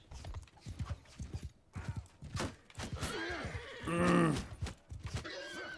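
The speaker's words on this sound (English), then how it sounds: "There goes my horse." A horse in Mount and Blade Bannerlord trots with rhythmic clip-clopping hoofbeats, then lets out a clear, drawn-out whinny partway through before the hooves continue, close and fairly loud.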